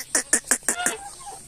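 Five loud, evenly spaced quacks from a pet duck ring out close by in quick succession, then trail off into quieter calls with no talking.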